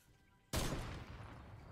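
Gunfire in a video game bursts in abruptly after a quiet moment, a loud sustained rattle of shots that fills the rest of the short stretch.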